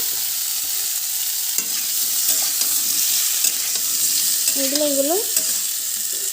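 Pieces of elephant foot yam and potato fry in oil in a pan, a constant bright sizzle with occasional stirring scrapes and clicks, and a brief faint voice near the end.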